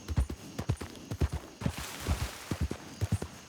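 Horse hooves clip-clopping in Red Dead Redemption 2, a steady walking rhythm of distinct close hoof strikes with a brief soft rush of ambient noise in the middle, no talking.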